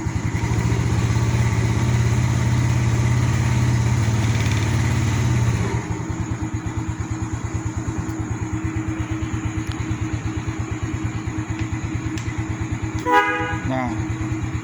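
A modified 2012 Yamaha Mio Soul scooter engine idles with a steady, rapid low putter, loud and close, dropping to a slightly lower, choppier idle partway through; a short horn-like toot sounds near the end.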